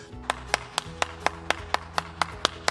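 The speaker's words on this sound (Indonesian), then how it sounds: "Tepuk tangan dulu" Hands clap in a steady, evenly spaced beat, about eleven crisp claps in under three seconds, fairly quiet over a low hum during an online children's Sunday school session.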